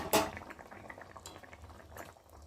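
A soft splash of fish pieces into simmering fish curry, followed by steady low bubbling and faint sizzling in a quiet kitchen.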